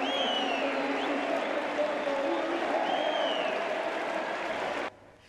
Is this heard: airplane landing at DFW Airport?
no